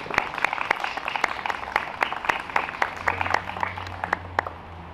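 Sparse audience applause welcomes the evening's host at the opening of a summer arts series in Olsztyn; distinct individual claps ring out sharply in an uneven rhythm, with a low hum underneath toward the end.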